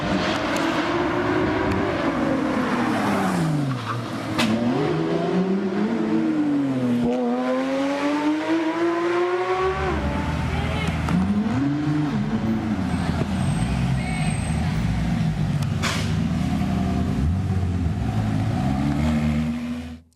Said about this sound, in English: the two cars you saw there were a Porsche and a Ferrari